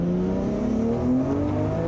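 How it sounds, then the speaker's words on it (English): Single-turbo automatic Toyota Supra with about 500 brake horsepower, a Nito Sports car, driving a handling course: a loud, steady engine drone rising in pitch as it accelerates, close and continuous with no talk. "We can see what Nito can do out here on the handling course in his Nito Sports Supra."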